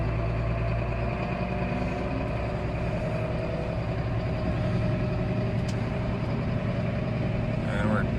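A new Massey tractor engine pulls away on a farm with a continuous low rumbling drone that stays fairly even, while a person talks over it.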